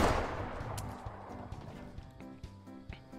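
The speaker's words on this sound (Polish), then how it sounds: "Uważaj, mordo, bo tutaj już jest strzelaninka." Scattered gunshots from a Fortnite match, a few sharp cracks spread across a busy mix of in-game noise and faint thuds, moderately quiet overall with no talking.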